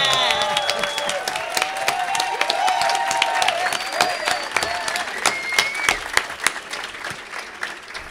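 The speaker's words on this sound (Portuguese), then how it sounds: "Palmas para esse grande músico." Lively audience applause for a zabumba player at a Brazilian music performance in São Paulo, with clapping and cheers while sustained musical tones ring underneath, gradually thinning toward the end.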